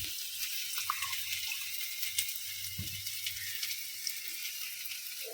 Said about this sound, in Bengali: একটু জল দিয়ে হালকা গুলিয়ে দিতে হবে।